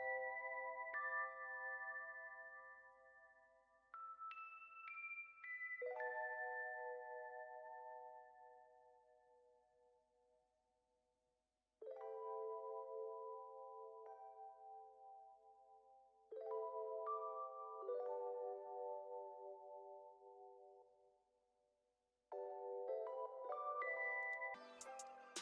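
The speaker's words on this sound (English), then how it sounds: "The next sound we've added is this RHODES from Lounge Lizard, the old school Model 1 preset." Rhodes electric piano from Lounge Lizard's old-school Model 1 preset, playing slow sustained chords with bell-like tone, each chord ringing out and fading before the next, quiet and unaccompanied.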